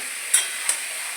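Tomatoes dropping into a pan of frying meat give a faint, steady sizzle, broken by two quick clinks of stirring.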